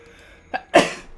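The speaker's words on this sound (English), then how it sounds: "sneeze" A single close sneeze during League of Legends game commentary: a brief sharp intake followed by a loud explosive burst that trails off quickly in an otherwise quiet moment.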